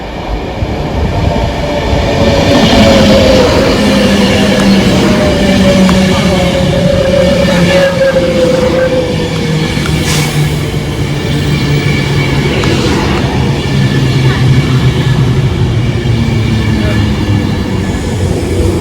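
A Virgin Trains Pendolino passes through a station platform without stopping, a loud, sustained roar with rail clatter and a falling pitch that fills nearly twenty seconds.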